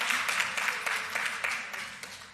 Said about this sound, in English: Clap him.